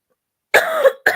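A single harsh cough rings out close up after silence, followed by the start of a second cough.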